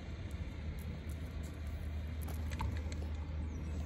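A bus goes past on a road near a lake, heard as a steady low engine rumble close by that holds through the whole stretch with no talk.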